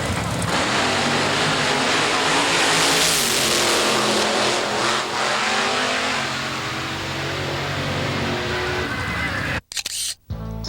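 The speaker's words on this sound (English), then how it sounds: "over 200 miles per hour and in the sixes, the world's fastest hot rod, a classic nitro coupe" Nitro coupe hot rod making a drag racing run at over 200 mph, a sustained loud engine roar that fills nearly the whole stretch, then cuts off abruptly near the end.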